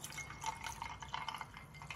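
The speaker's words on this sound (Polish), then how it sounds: "Nalewamy sobie kawusię." Brewed coffee pours from a container into a glass with ice, a close, continuous liquid trickle with faint clinks, moderately quiet and without speech.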